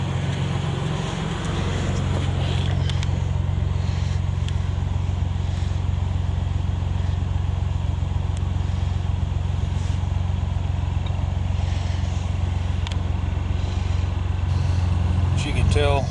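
A car engine idles steadily at about 700 to 800 RPM with its check engine light on, giving a close, even low hum with occasional faint talk.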